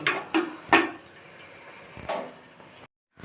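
A lid goes onto a pot of butter popcorn with a few sharp metallic clinks and knocks, each followed by a soft ringing tail. A final clatter comes before brief silence.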